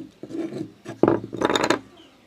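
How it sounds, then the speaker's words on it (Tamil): A small hand saw blade cuts a heart shape out of a wooden frame, heard as three close, scratchy rasping bursts of wood sawing separated by brief pauses. "ஒரு சின்ன ஹேண்ட்ஸா பிளேட் எடுத்துருக்கேன்"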